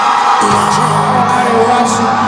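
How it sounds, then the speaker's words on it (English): A debate audience cheers and applauds for the first speaker, with loud sustained clapping mixed with whoops and shouts throughout. "A round of applause for the first speaker, Oyedijo."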